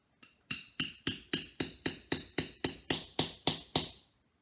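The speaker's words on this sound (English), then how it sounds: "and just hammer it in." A nail is hammered into a homemade WWI trench club with about thirteen sharp, evenly spaced hammer strikes, each ringing briefly, close and loud with no talking.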